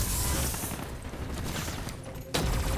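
Gunfire in Call of Duty: Black Ops 3 on PC, a dense fusillade of shots and mechanical clatter that eases midway, then a loud burst returns near the end.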